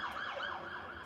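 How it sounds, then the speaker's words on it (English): An emergency vehicle siren wails outside, a rising and falling electronic tone heard from some distance, continuous and alone with no voices. "It's like as long as the sirens don't stop here."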